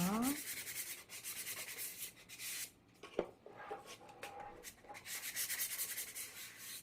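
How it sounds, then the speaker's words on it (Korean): Steady strokes of sandpaper rubbing lightly across wood while making a candle warmer, close and continuous, pausing briefly midway before resuming. "사포를 하실 때는 힘을 빼시고 전체적으로 한번 스크러치를 낸다는 생각으로 사포를 해주시면 됩니다."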